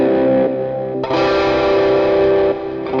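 Electric guitar runs through a Lekato Cube Baby amp modeling pedal, sustained distorted chords ringing close and loud, the tone shifting abruptly as the amp model changes, with no one speaking.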